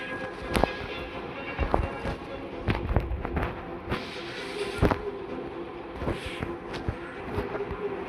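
Rapid gunfire from the Free Fire battle royale game, sharp loud shots scattered irregularly across the clip, some in quick bursts, over a busy background of game noise.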